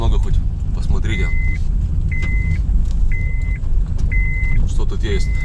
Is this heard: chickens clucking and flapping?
no